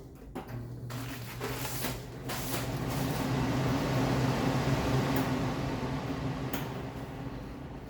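An Austin Air HM400 air purifier bought in 1998 runs with a steady, close whooshing fan and a low motor hum throughout, with a few faint knocks early on and no talking.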